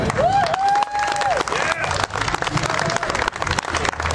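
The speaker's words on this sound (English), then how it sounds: "Big round of applause for Senator Mark Obenshain, please." Crowd applause and cheering at an outdoor Tax Day rally for a senator, a loud dense wash of clapping with shouts and babble, a voice briefly calling out over it near the start.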